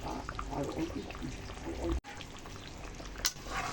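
Katla fish kalia gravy simmering in a pan, a steady low bubbling and faint sizzle running throughout with a brief break midway and a small clink near the end; a voice talks over it.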